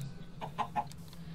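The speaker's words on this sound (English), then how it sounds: "Oh, there's a chicken." A chicken in the video game Minecraft gives three quick, faint clucks in a row over a low, steady background hum.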